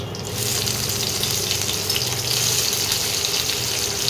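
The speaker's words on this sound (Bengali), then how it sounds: "সেজন্য অল্প করে মাছটাকে ভাজতে হবে।" Prawns frying in hot oil: a loud, continuous hiss and bubbling that starts just after a quiet first moment and holds steady, with no one talking.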